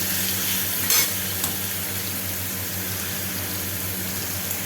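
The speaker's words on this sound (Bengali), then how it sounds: "এই সলিড চিকেনটাকে খুব ভালো করে ভেজে নেব, পেঁয়াজ, গরম মশলা এসব দিয়ে ভেজে নেব।" Chicken fries in a pan with onion and garam masala, giving a steady close sizzle with occasional stirring scrapes over a low continuous hum.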